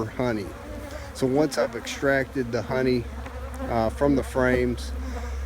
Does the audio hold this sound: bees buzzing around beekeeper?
yes